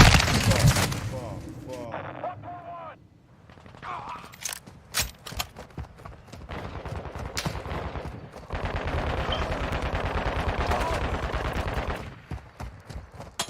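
Video game gunfire, bursts of rapid automatic shots and single cracks, loud and close, with shouted in-game voices and footsteps between volleys and a dense stretch of sustained firing near the end.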